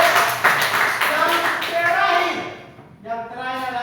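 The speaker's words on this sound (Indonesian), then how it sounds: "Tepuk tangan buat Niko." Schoolchildren in a classroom clap together for a classmate in a brief burst of scattered hand claps, while a voice talks over it before the sound tapers off.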